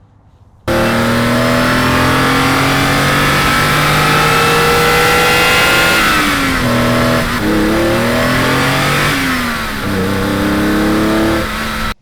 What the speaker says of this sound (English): I wanted this intro to be all about ITB noises